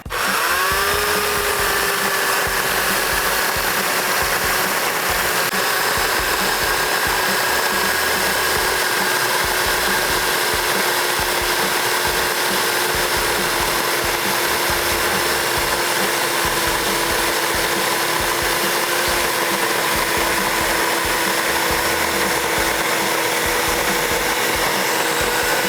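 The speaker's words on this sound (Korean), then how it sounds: "이 나무를 똑같이 전기톱으로 한번 잘라보겠습니다" A 2000-watt electric chainsaw, roughly equal to a 30cc engine, cuts through a wooden log with a steady, loud, continuous motor whine that holds throughout without pause.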